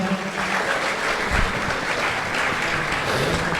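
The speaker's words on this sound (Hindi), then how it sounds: "सभी पैनलिस्ट के लिए बहुत जोर की तालियां हो जाएं" A crowd applauds steadily throughout, a dense, even wash of clapping from many hands with no voices standing out.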